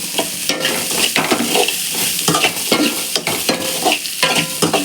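Onions sizzle in a hot pan while a spoon scrapes and stirs in repeated strokes for a bitter gourd tamarind curry, steady frying noise underneath.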